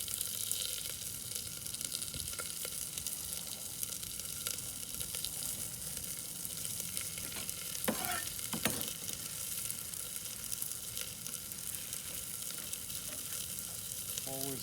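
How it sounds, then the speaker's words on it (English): Food frying in peanut oil in a pan, a steady faint sizzle and crackle throughout, with a couple of brief stirring or scraping sounds partway through and a faint voice under it. "Now you hear that sound? That's cooking."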